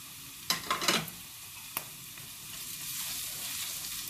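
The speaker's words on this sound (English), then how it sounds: "You only need to let that fry for about 30 seconds. Our curry leaves." Curry leaves spit and crackle in hot oil with ginger, garlic and onions for a broad bean curry, a burst of loud pops early on, then a single snap and a steady low sizzle.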